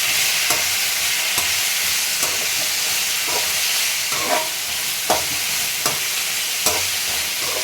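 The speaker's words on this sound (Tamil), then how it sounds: "இந்த பிரண்டையும் எடுத்து உள்ளே போட்டுருங்க அதோடு சேர்த்து நல்லா வதக்கணும்" Veldt grape (pirandai) being stir-fried in a pan for thuvaiyal: a steady loud sizzle with regular scraping strokes of a spatula roughly every second, close and continuous, no voices.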